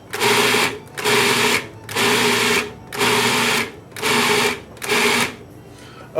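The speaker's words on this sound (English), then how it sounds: "My food processor must not be as big as the one on TV" A home food processor grinds ground beef in six loud, even bursts, each about half a second to a second long, separated by short pauses. Its motor whirs on steadily through each pulse.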